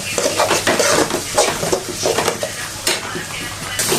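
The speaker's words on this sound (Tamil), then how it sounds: "முட்டை மிளகாத்தூள் நல்லா வதங்கிச்சுங்க காய் சேர்த்துக்கலாம் இப்போ" Vegetables stir-fried with onion, egg and chilli powder in a pan for a morning meal give a continuous sizzle under repeated scraping and clanking of a spatula against the pan, close and fairly loud, without talk.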